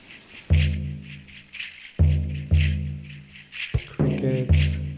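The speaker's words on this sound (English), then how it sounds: "Crickets," Crickets chirping at night in a nature soundscape, a steady high insect trill running throughout beneath repeated booming drum hits.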